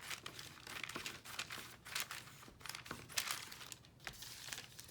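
Scissors cut paper for a page flip-out, a steady series of soft crinkling snips and rustles close by, irregular but continuous, with no talking.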